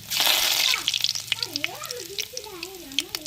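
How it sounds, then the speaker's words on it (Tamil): Mustard seeds and cumin crackle and sizzle in hot oil, a loud burst of frying hiss at first that settles into lighter popping, with a sliding whistle-like tone running underneath. "எண்ணெய் சுடாரிச்சுங்க கடுகு போட்டுக்கணும் ரெண்டு சின்ன சீரகம் போட்டுக்கணும்"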